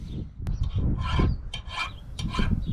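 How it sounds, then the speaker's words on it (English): A metal file scraping wrench marks off a nut held still in rubber grip while resealing a Ford 770B loader cylinder, a few rough rasping strokes close by, each separated by short pauses. "I smooth off the wrench marks"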